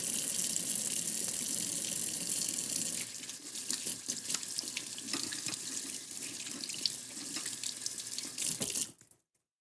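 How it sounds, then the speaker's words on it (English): A kitchen tap runs as hands are washed, a loud steady stream for a few seconds and then a broken splashing as hands move under the water before it shuts off abruptly. "I'm gonna wash my hands"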